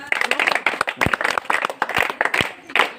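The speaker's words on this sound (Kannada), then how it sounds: "ಎಲ್ಲರಿಗೂ ಚಪ್ಪಾಳೆ ಹೇಳ್ರಿ" Sustained clapping from a group, dense and steady with a few louder sharp claps standing out, lasting a few seconds.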